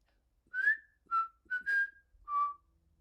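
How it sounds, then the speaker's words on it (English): Four short whistled notes in sequence, each a clear, bright tone with a slight rising slide, separated by brief pauses, close and alone. "W is for whistling."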